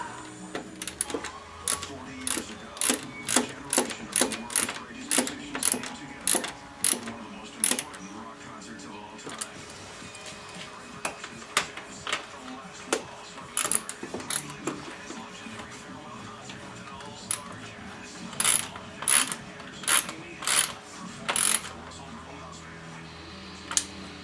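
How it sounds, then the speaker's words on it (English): A ratchet with a 10 mm socket tightens a bolt during radiator replacement on a 2003-08 Toyota Corolla, giving close, rapid runs of ratcheting clicks in repeated bursts with short pauses between strokes. "Get the right size socket, which is 10 millimeter, and we're just gonna tighten up this."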